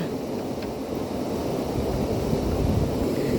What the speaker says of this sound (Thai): น้ำไหลลงเคื่อน